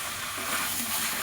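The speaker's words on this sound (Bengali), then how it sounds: "সবগুলো দিয়ে আমি 2 থেকে 3 মিনিট মতন ভালো করে কষিয়ে নেব" Soft, steady sizzling and stirring of chicken sautéed with fried potatoes and young jackfruit in a pan, a continuous hiss with no talking.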